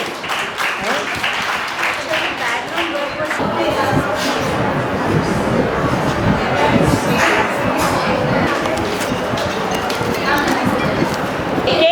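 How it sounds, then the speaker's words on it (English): Applause from a room of trainees at a lactation management training session in a hospital, sustained clapping throughout with scattered voices mixed in. "big round of applause to her also."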